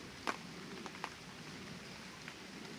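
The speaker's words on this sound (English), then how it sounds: "Wow. It is raining." Rain falling steadily outdoors, a soft constant hiss with a few faint louder drips and taps scattered through it, quiet and distant-sounding.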